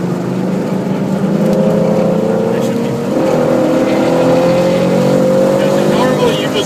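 A race car engine roars loud and steady at Blackhawk Farms Raceway during practice, heard from inside the car as it accelerates, its pitch climbing smoothly with a brief dip partway through.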